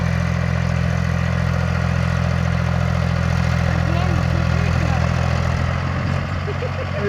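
A tractor engine idles and chugs at a steady low drone over a rough, potholed field, close and loud throughout, with brief voices beneath.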